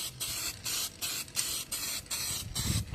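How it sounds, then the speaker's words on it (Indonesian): Repeated short bursts of aerosol spray paint hissing onto a motorcycle fuel tank, about seven quick sprays in a steady rhythm, close up and fairly loud. "Setelah 10 menit kita lanjut lagi untuk penyemprotan keduanya"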